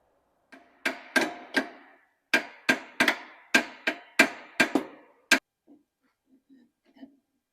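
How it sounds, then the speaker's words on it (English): Sharp hammer taps on parts of a Royal Enfield Bullet 500 motorcycle during restoration, about a dozen crisp close strikes in irregular bursts, then a few faint knocks as it quiets. "So I'm just tapping it with a hammer in the back, and you can see they're coming up."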